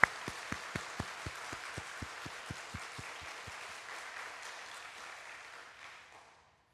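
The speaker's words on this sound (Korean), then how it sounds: "여러분의 모든 신앙을 담아서 우리 하나님께 감사의 박수 올려드립니다" A church congregation at a youth worship service claps in thanks, opening with about fifteen loud, evenly spaced beats, then dissolving into dense, sustained applause that gradually fades out over several seconds.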